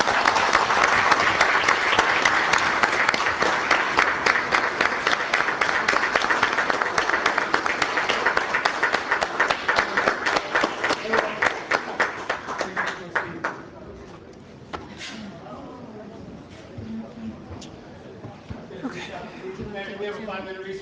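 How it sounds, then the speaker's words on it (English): An audience at a meeting gives a round of applause, loud dense clapping for about thirteen seconds that thins out into scattered claps and room noise. "A nice round of applause."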